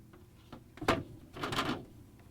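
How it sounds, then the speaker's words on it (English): A plastic part of a Whirlpool/KitchenAid/Maytag refrigerator freezer icemaker setup is pressed in and snapped onto small round tabs, making a sharp click followed by a longer scraping, rattling push, close and alone. "All we have to do is press it in between these two little fingers. It just locks into place on these little round tabs."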